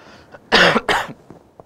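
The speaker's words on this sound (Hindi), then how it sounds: "बार बार खांसी आ रही है" A man's sharp double cough, two loud close bursts in quick succession followed by quiet.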